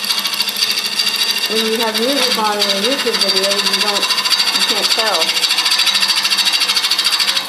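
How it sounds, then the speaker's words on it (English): A close, constant hissing whir from turning a resin and wood goblet on a lathe, with air and shards hitting the tool, runs beneath a person talking, with a fine gritty rasp. "what you're hearing is some amount of air and maybe some shards that are hitting the tool."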